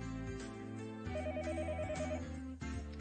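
A telephone rings for an incoming call, a repeating electronic ringtone melody with bright pulsing tones over a steady low backing, loud and uninterrupted, no voices.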